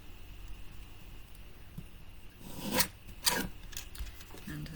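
Two short, crisp snipping cuts from a mini chopper trimming the edge of a wreath frame, close by and fairly quiet against a soft background hiss.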